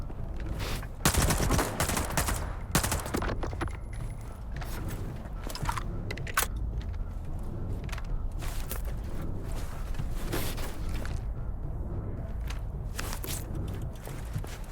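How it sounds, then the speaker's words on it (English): Rapid gunfire bursts from Stalker 2 combat, dense and loud with sharp shots clustered early and scattered cracks and footsteps continuing throughout, no talking. "Ow, bullets."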